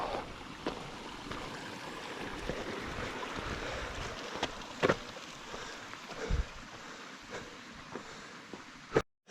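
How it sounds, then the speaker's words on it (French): A small river flows along the Pohono trail in Yosemite, a faint, steady wash of water heard from a distance with a few soft knocks and rustles on top. "Revoilà la petite rivière de tout à l'heure"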